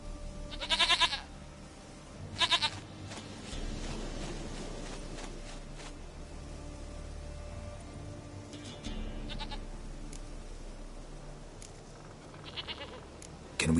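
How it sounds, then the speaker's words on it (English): A goat bleats in The Witcher III video game, with two loud, wavering bleats close together early on, then a quieter stretch of ambient game sound and faint clatter. "Goat of mine, dearest, sweetest goat."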